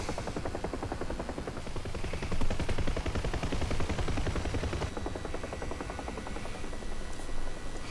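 Steady rhythmic thumping of helicopter rotor blades with a whining engine hum in the flight simulator DCS World, over a Normandy 1944 map, continuous and moderately loud, no voices.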